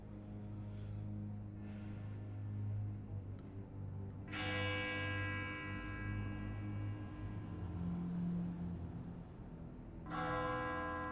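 A bell rings in two bright, ringing strikes several seconds apart, each decaying slowly over a low steady hum, fairly faint with no talk.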